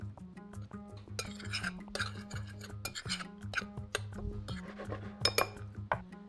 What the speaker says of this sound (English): Let's mix this all together.